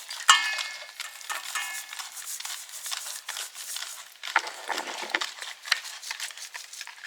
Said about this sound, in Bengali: তো মাখিয়ে নিচ্ছি।